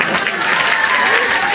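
An audience claps in a burst during an Assamese comedy stage show, loud and close, with crowd voices mixed into the short round.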